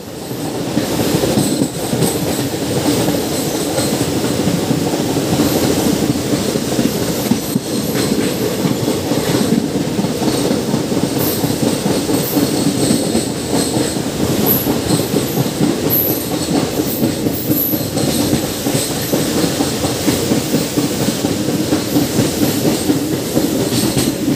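Silchar Express train running on rails, a loud continuous rumble with rhythmic clatter of wheels and occasional high squeals, heard close from on board for the whole stretch with no talking.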